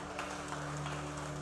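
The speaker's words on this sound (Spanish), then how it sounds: "Dale un aplauso a Dios." Faint, distant applause from a church congregation during a Spanish-language worship service, a soft steady patter of many hands over a low hum with no voices.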